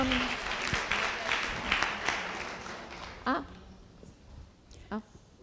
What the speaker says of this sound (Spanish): le aplaudimos a Eduardo